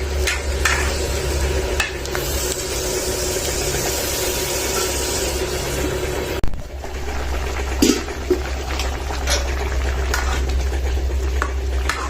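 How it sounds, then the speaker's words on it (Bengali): Peas and tomatoes with spice paste being sautéed in a pan for a rohu fish curry, with a steady, close sizzle and stirring against a constant low hum, plus a few scraping clatters. "একসাথে আমি এগুলি সব কষা নেব।"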